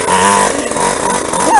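A small pocket motocross bike engine revs loudly and close by, with a high, buzzy whine that rises and falls through a short, continuous burst.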